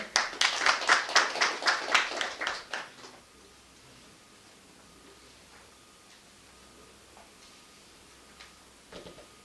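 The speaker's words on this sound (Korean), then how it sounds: "박수로 맞아주세요." Audience clapping at a construction quality technical seminar in Korea, a dense burst of applause for about three seconds that quickly fades to near silence, with a few faint scattered sounds afterward.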